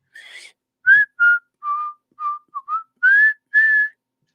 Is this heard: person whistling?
yes